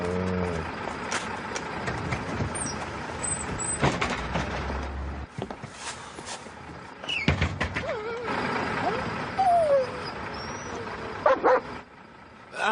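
A dog left outside barks and whimpers near a bus amid street noise, with scattered yips and whines heard intermittently under rumbling traffic and voices.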